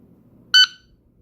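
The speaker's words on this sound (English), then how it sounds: "Take a listen as I activate the timer." A Commander shot timer emits a single short, loud electronic beep after a delayed start, with near silence before and after.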